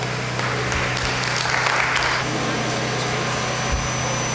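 A church congregation claps steadily and warmly for a choir at a Sunday Mass. The applause is dense, continuous and fills the room at an even level throughout.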